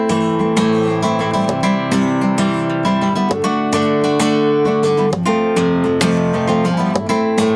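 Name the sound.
percussive tap on guitar body by itself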